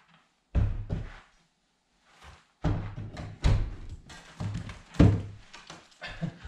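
A door and its whole frame being wrenched loose from a warped house before demolition: a series of heavy wooden thunks and creaking scrapes, close by, in irregular bursts.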